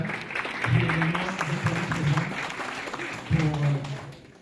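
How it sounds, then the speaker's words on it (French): A crowd claps steadily at a rumba gala opening while someone speaks loudly over it; the applause swells and carries on beneath his voice. "Je vous prie d'applaudir Marie-Jeanne"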